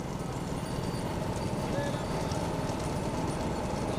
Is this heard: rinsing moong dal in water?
no